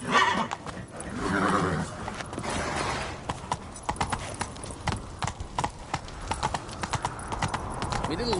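Hoofbeats of the horse Roach clip-clop steadily through The Witcher 3, with whinnies and neighs breaking in over the rhythm, close and fairly loud beneath game voices talking.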